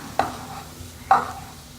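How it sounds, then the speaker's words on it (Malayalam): Filling being stirred and sautéed in a pan, two distinct scraping stirs about a second apart over a soft background sizzle, close and moderately loud with no talking. "എന്നിട്ട് നന്നായിട്ട് മിക്സ് ചെയ്ത് കൊടുക്കുക. ഇതൊന്ന് നന്നായിട്ടൊന്ന് വഴന്ന് വരണം."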